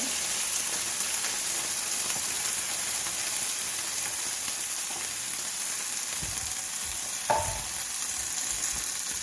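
A tomato product hits a hot pan in the middle of making beef stock from scratch. It gives a steady, loud, broadband sizzle and crackle throughout, with a few louder scraping knocks from stirring near the end.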